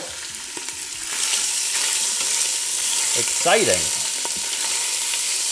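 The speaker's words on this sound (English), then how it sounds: "Don't let the grease splatter the camera" Beef stew meat fries in an Instant Pot, a loud, continuous sizzle with grease spitting and crackling close by, while a voice briefly speaks over it.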